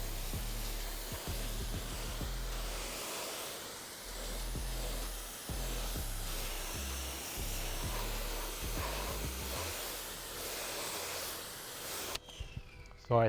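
A water spray rinses a Tesla during a detailing job with a GYEON Mohs EVO coating, a steady broad hiss that cuts off abruptly near the end.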